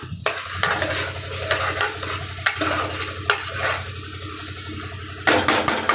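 Ginger garlic paste and green chillies sauté in oil in a pan, a steady sizzle with repeated close scraping and tapping of a spoon as it is stirred.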